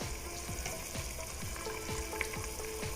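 Fried eggs go into rice in a pressure cooker for egg biryani and sizzle softly, a crackling fry with repeated stirring scrapes at a steady rhythm, fairly quiet and with no one speaking.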